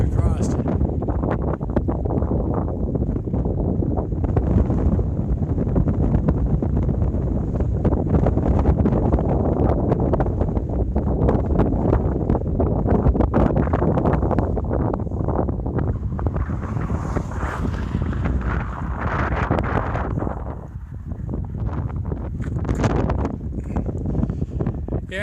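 Strong wind buffeting a microphone beside an Arizona highway, a loud continuous low rumble with gusty swells, a person talking at times underneath.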